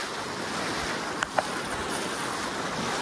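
Fast-flowing water rushes steadily at a stream crossing in Dehradun during off-road riding on a Hero Xtreme 125 motorcycle, a constant broadband wash with a couple of brief knocks midway.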